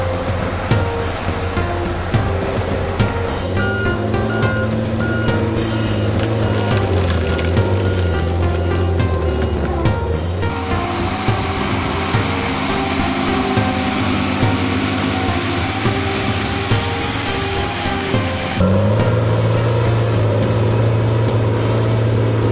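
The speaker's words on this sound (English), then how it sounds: "Tigercat skidders are designed to transport wood to the deck at the lowest cost per ton" Tigercat skidder forestry machine hauling wood to the deck, a steady loud engine drone with hydrostatic drive whine and rumbling, continuous throughout with a shift in tone near the end.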